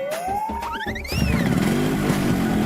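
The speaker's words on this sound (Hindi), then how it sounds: "बिरजू एक नई बाइक पर सवार होकर राजू की दुकान के आगे रुकता है" A motorbike in an animated scene rides up and halts before a roadside tea shop, a whining engine climbing in pitch, then a blaring horn-like tone and a steady low idling rumble after it stops.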